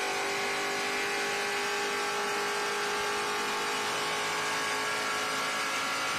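A race car engine at Watkins Glen holds a sustained high-pitched drone at speed, steady and fairly distant, with a faint pitch drift and no voices.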